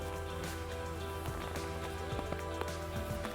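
Rain falling steadily in Regent's Park, London, a continuous soft wash of drops with scattered louder patters, heard alone with no one speaking.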